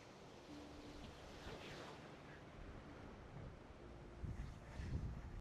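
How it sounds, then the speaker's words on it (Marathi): Ocean waves meeting from different directions wash and surge along a Melbourne coastline, a faint steady roar with wind, building to a louder swell near the end. "इथे तुम्ही बघू शकता लाटा वेगळ्या वेगळ्या दिशेने येतात"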